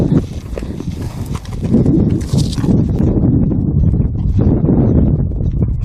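Hooves clip-clop at a walking pace, close by, in an uneven steady rhythm over a low rumble of wind noise.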